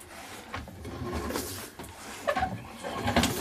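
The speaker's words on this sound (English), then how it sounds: "you can hear us pulling the camera out" A downhole camera being pulled up out of a well on its cable after reaching about 130 feet: steady mechanical rumbling and scraping with clicks and rattling knocks, close and moderately loud, with no voices.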